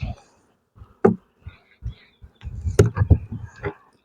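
Honey bees buzz around a hive in short, uneven bursts as individual bees fly close past, with quiet gaps between the passes.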